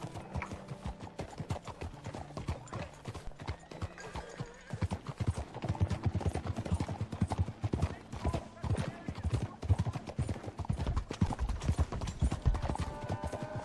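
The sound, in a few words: horse galloping in video game Red Dead Redemption 2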